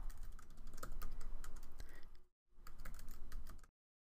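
Password being typed on a computer keyboard: a quick run of soft, close key clicks in an irregular rhythm, a brief pause, then a second burst of keystrokes before silence, with no talking.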